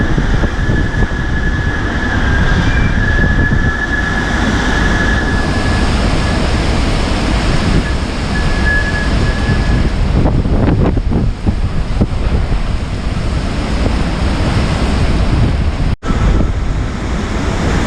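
Hurricane Zeta, a Category 2 storm south of New Orleans in Plaquemines Parish, drives loud, steady roaring wind that buffets the microphone, with loose house siding flapping and rattling in bursts partway through.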